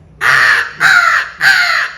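A hand-blown crow call, used while turkey hunting, gives three loud, harsh caws in even succession, close and alone, imitating a crow.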